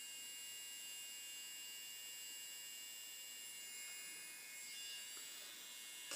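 A cheap Temu electric nail drill whines steadily at a high pitch, a thin, constant buzz that is faint and unbroken for about six seconds with no voices.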